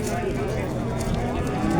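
A cow lows at a busy livestock market in Chust, its moo blending into a thick wash of crowd noise and nearby voices.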